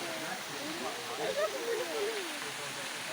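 A small waterfall cascade at a spring on Rhodes rushes as a steady broadband wash of water, moderately distant, with faint voices murmuring underneath.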